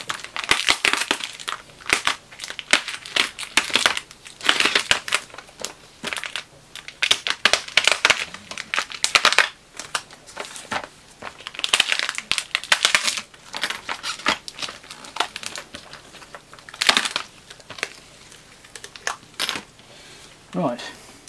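Plastic mailbag parcel being cut open around its edges, loud crinkling and crunching bursts in irregular clusters, close by, with short pauses between cuts.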